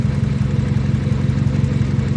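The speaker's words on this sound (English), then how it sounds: "It runs pretty good. It's idling really well right now." A Honda Civic engine idles steadily and loudly close by, a low, even, throbbing rumble with a fast regular pulse and no talk over it.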